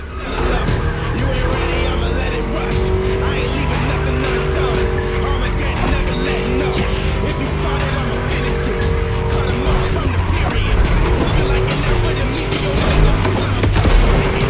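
Race cars from The Crew Motorfest's American Muscle Mustang playlist lap a track. A loud, continuous engine roar runs throughout, with repeated tire squeals and skids over it.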